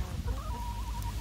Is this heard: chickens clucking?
yes